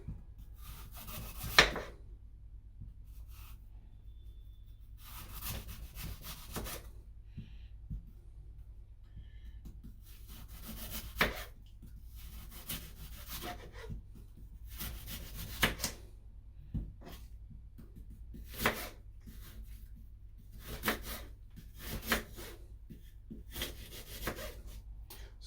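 Knife cutting apple into thin slices for dried fruit, heard as a quiet series of separate, irregular cutting strokes over about twenty-five seconds, close by, with no talk.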